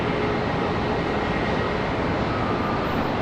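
A Southwest Boeing 737 MAX 8 at Charlotte Douglas International Airport gives off a loud, steady engine roar that stays even and continuous throughout, with no voices.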